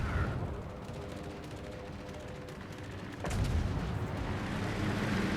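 Naval guns fire in the warship game Stalingrad, a muffled, distant-sounding roar of shots that swells into a louder heavy boom partway through and holds as a rumbling wash.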